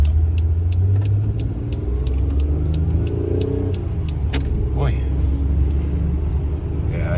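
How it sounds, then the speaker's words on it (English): A car engine runs steadily with a low rumble throughout, close by, while someone talks over it. "I definitely gotta check the compression on this car."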